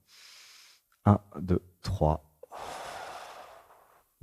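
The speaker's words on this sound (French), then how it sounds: "Une respiration." A person counts aloud, then takes one soft, breathy exhalation that trails off over about a second and a half, close and quiet.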